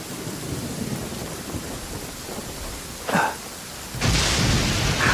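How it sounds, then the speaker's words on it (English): Steady rain hisses throughout, then a short crack of thunder followed by a loud, rumbling roll of thunder at the end, in the video game Genshin Impact. "That thunder's so loud."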